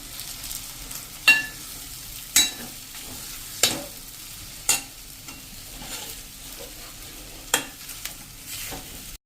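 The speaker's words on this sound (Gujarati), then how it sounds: "અને ગેસની ફ્લેમ હવે બંધ કરી દેશું અને આને બધું આપણે સરસ મેશ કરી લેશું।" Spiced samosa filling being mashed and stirred in a pan on a stove with the flame just turned off, giving soft scraping with a few sharp knocks of utensil on pan at irregular intervals over faint sizzling.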